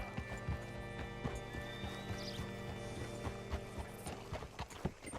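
Horse hooves clip-clop at a walking pace in Red Dead Redemption 2, a quiet, irregular series of soft hoof strikes that grows a little busier toward the end, with no talking.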